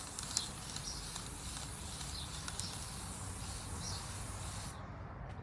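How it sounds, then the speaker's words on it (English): Gold spray paint hisses from an aerosol can in a steady, continuous spray onto the centre of a palm leaf for a florist's modern bouquet. The spray is close and broadband and cuts off sharply near the end. "we just spray the centre of it"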